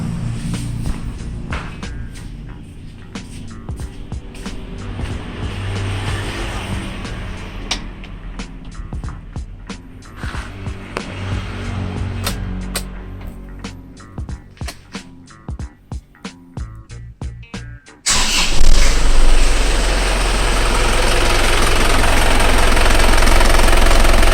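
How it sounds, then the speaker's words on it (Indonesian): An Isuzu Panther engine runs with a steady low knocking diesel idle and sharp clicks. Near the end it shifts abruptly into a louder, smoother, continuous run that holds to the end, with no voices. "Oke, kita nyalakan dulu mesinnya."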